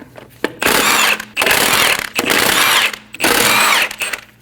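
A powered tool with a 17mm socket spins lug bolts off a Volkswagen Passat wheel (2012–2022 model), loud whirring bursts close by, four runs separated by short pauses.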